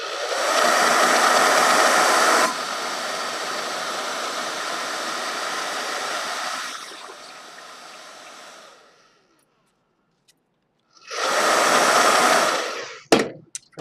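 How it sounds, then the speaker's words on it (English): A blow dryer dries watercolor paper, producing a loud, steady whooshing roar that eases down and cuts off, then returns for a short blast after a pause of silence. "I'm gonna go ahead and blow dry it just really quickly."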